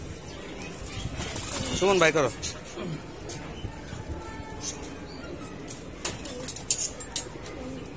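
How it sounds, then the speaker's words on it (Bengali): Pigeons on a rooftop loft coo in soft, repeated rolling calls, one bout close and prominent early on, with faint wing flutters and people talking nearby. "কবুতরটা মানে খুব সুন্দর কবুতর"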